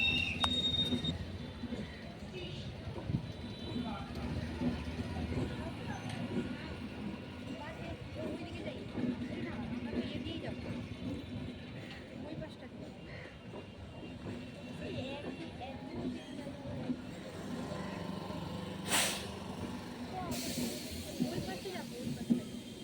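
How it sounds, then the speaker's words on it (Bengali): A Majerhat–Habra local train rolls through a level crossing with the gate down in front of a station, a steady, loud rumble and hiss lasting throughout, with people talking nearby. "একটু বাদেই এখান থেকে ট্রেন যাবে মাঝেরহাট হাবড়া লোকাল।"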